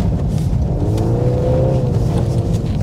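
A 2023 Volkswagen Golf R engine pulls hard and steadily under acceleration, a loud, close drone with a rising tone midway and no talk.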